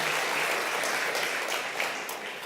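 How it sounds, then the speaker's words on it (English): Brief burst of audience applause for event organizers at a talk on universal family care, a dense wash of clapping from a crowd that eases slightly toward the end. "Can we give a huge round of applause to the organizers who brought us all together today?"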